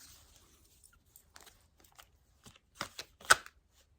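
Tarot cards riffle and snap in short bursts, quiet at first and then louder, with brief pauses between.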